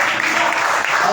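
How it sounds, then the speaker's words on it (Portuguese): A church congregation applauds during a worship service, a brief steady wash of many hands clapping with voices mixed in. "Mas você pode então agora aplaudir a Ele."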